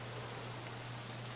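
Rain in Escape From Tarkov makes a brief, constant broadband hiss with a low steady hum underneath and no talking.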